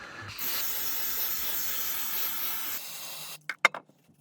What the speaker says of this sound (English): I use this brake pad cleaner.